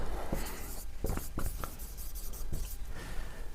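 A pen writes on paper while a maths worksheet is being solved, making short, scratchy strokes that are close and quiet, with small pauses between them.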